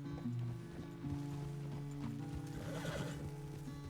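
In the video game Red Dead Redemption 2, a horse neighs loudly and close while its hooves clip-clop in a steady rhythm, all over a constant low engine-like drone.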